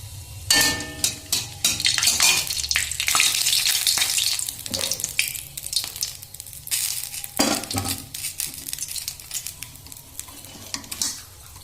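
A spatula stirring fried rice with carrots in a pan, loud busy scraping and clanking against the metal over a frying sizzle, with rapid irregular strokes and brief pauses and no speech.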